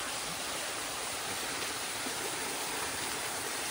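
Water from a strong spring rushes loudly and continuously in a dense, steady roar, close by, with no voices.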